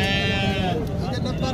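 Sheep bleat repeatedly at a livestock market, several animals calling close by amid a busy crowd with people talking throughout.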